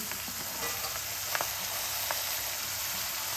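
Peas and tomatoes being mixed into onion greens cooking in a pan, giving a steady close sizzle with a few soft scraping stirs.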